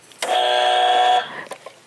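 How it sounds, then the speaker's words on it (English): A loud, flat buzzer sound effect blares as one sustained tone for about a second, followed by a couple of faint clicks. "Can you get the buzzer guy?"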